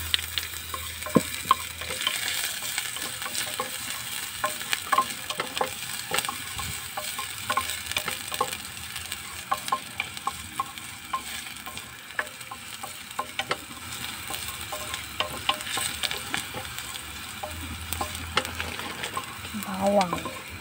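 Garlic and onion sauté in oil in a pan with a steady, close crackling sizzle, marked by frequent sharp ticks and clinks from stirring across the whole stretch.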